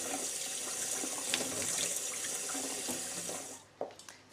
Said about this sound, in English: rinse it under the cold tap until the water runs clear